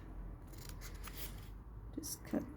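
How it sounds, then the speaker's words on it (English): Scissors snip away the overhanging paper corners of a spring-themed craft project, a few brief crisp cuts close by against a quiet room, with faint rustling between them. "First of all, I'm going to cut away the corner"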